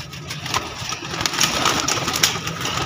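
Soft pigeon cooing comes in short bursts over a low mechanical hum at a pigeon market, fairly close and moderately quiet.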